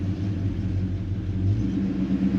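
Steady low rumble of a 1973 Chevy C10 squarebody truck cruising along, an even engine drone heard from inside the cab with no voices.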